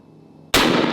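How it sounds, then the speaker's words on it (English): A single 4-gauge shotgun blast of buckshot fired at a Furby cracks out abruptly after a quiet moment, very loud and close, with the report ringing on to the end. "Let's see what 4-gauge buckshot will do to this Furby."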